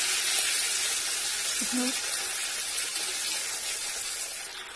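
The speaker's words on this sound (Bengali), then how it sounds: "ভালোভাবে এটাকে ভেজে নেব মশলার কাঁচা গন্ধটা যতক্ষণ না যায়" Ginger spice paste with dried red chilli frying in a pan for khichuri, giving a steady, close hissing sizzle that fades slightly toward the end, with a brief faint voice.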